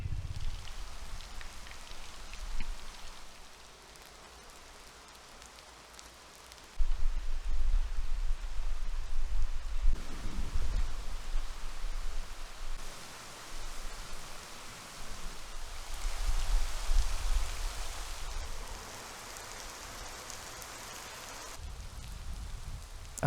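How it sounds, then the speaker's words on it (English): Heavy rain pours steadily while sheltering under a bridge, a dense hiss of drops on surfaces close by, swelling louder partway through and holding strong with brief easing, no voices. "It wasn't long after I pulled in under the bridge that the real rain arrived."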